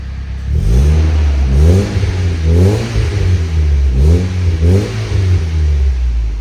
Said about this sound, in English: Oh man, that is like stock. Rev it, Eddie.